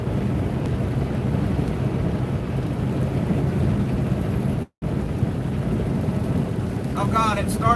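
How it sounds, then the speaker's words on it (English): Rain patters steadily with wind and road roar around a truck cab on the highway, a continuous wash of noise with a brief dropout and a voice near the end. "Oh God, it started raining."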